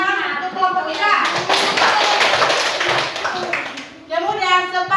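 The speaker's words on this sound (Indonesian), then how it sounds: "tepuk tangan untuk kelompok 3" Children in a classroom clap for a group that has just presented, a burst of quick, slightly ragged hand claps for a few seconds, with a teacher's voice speaking before and after.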